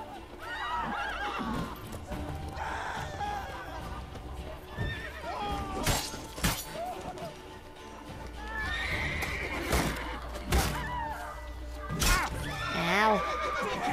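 Horse neighs and whinnies in The Witcher 3: Wild Hunt, with clip-clop hooves and game ambience; several loud whinnies come near, mixed with brief crashes and scattered voice sounds.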